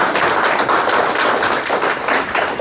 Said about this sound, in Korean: 우리 큰 박수 한번 보내줄까요?